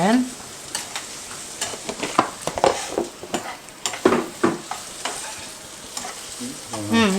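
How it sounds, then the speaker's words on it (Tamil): Cinnamon and cloves sizzle in hot oil as a tempering for goat head curry, with a soft continuous fry under repeated scraping strokes of a spoon against the pan, heard up close. "இப்போ கொஞ்சம் பட்டை லவங்கப்பூ இதுக்காக தாளிச்சிட்ருக்குறேன் தலைக்கறிக்காக"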